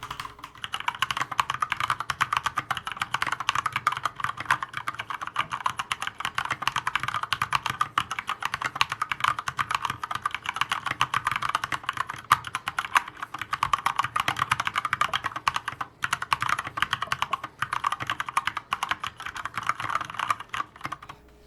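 Corsair K65 RGB Mini 60% keyboard being typed on: fast, continuous clicky keystrokes with a soft, somewhat hollow tone, fairly quiet and close, with no talking.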